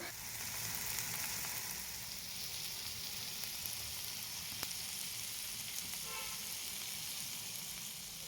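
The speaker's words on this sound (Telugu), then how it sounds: "ఆయిల్ మళ్ళీ యాడ్ చేసుకొని లో టు మీడియం ఫ్లేమ్లో పెట్టుకొని ఫ్రై చేసుకోవాలి" Prawns fry in oil on a tawa over a low to medium flame, making a constant soft sizzle throughout with a couple of faint utensil ticks and no talk.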